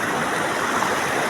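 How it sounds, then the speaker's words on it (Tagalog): Spring water from a farm flows in a stream with a steady, close rushing and gurgling wash, alone and unbroken for about a second. "Ito yung tubig na galing bukid."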